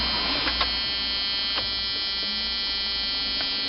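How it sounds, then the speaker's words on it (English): An immobiliser alarm buzzer mounted under the dashboard of a Jeep Cherokee XJ Mk1 drones continuously at a steady, loud, harsh pitch, unbroken from start to finish, with a few faint clicks behind it. "ripping that bloody buzzer out from under the dashboard"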